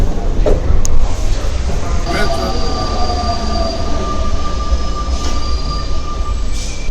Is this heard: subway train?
yes